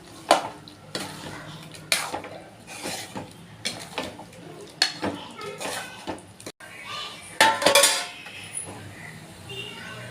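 Tomatoes and chicken liver fry in a pan, with repeated scraping stirs and a soft sizzle while a person talks over the cooking.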